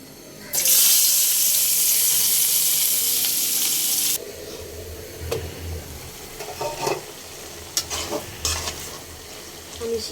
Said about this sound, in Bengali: আমি একটু পানি দিব বেশি না পানিটা দিয়ে তারপর আমি লাড়া দিয়ে ঢেকে দিব